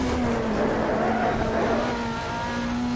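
A BTCC Super Touring race car laps the Croft circuit, its engine note droning loud and continuous from on board, the pitch dipping slightly and then holding.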